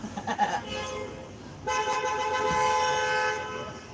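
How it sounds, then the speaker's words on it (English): Car traffic rumbles in the background, then a car horn blares a long sustained honk for about two seconds, fairly loud over the street noise. "Just random like cars in the background and a crash."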